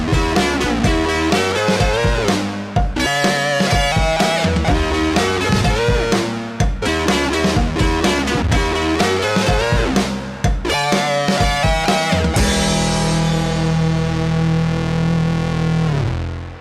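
An ARP synthesizer, recorded straight from its own output, plays a looping, distorted phrase several times in a row. It ends on a long sustained chord with a lingering tail.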